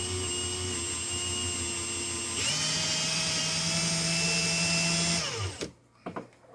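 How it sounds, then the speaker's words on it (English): A drill turning a brass rifle case in a neck turner, held by a Lee 3-jaw chuck, whirs loudly and steadily, jumps to a higher-pitched spin partway through, then winds down and stops, leaving a few soft clicks. "It's made to chuck up on your drill and hold your case while you turn it."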